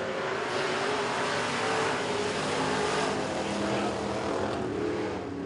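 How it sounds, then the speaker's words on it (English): Superstar-class race cars roar around Crossville Speedway during a heat race, a loud, steady wall of engine noise with no break, as if the pack is passing close by. "Green white checkers here for heat race number one with the superstar class."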